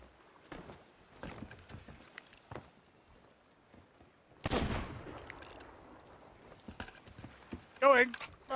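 A sharp, loud video game gunshot bursts out midway with a ringing tail, among scattered clicks and clatter and a few bright electronic blips near the end.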